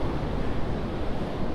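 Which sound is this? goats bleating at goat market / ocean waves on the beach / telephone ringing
ocean waves on the beach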